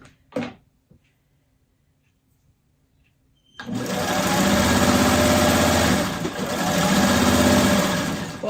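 Brief tap, then a few seconds of quiet, then a sewing machine stitching fabric at a steady fast hum, close and continuous to the end with a slight dip in the middle.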